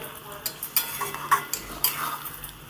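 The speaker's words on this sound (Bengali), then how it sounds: "লেবুর রসটা দিয়ে একটু নেড়ে চেড়ে দিলাম" Okra and ivy gourd being stirred in a pan after lemon juice is added, with quick scraping clinks of a spoon against metal and a soft sizzle underneath, the strokes coming in an uneven rhythm.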